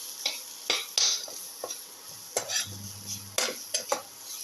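A spoon scrapes and clinks in a pan, stirring chili powder into a ginger, garlic and tomato casserole, with several short metallic taps and a brief low sizzle partway through, close and fairly quiet.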